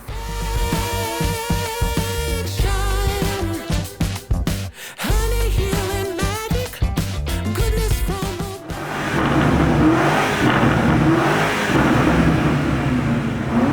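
A BMW M5 G90 fitted with an Akrapovič exhaust revs loudly and up close in repeated surges and drops during a sound check, followed by a stretch of dense, rough roaring noise.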